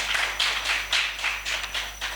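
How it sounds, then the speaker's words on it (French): Sparse, light claps from a small audience at a school cultural contest, a few separate bursts over about two seconds, fairly faint with a steady hum underneath. "Sous vos applaudissements, s'il vous plaît"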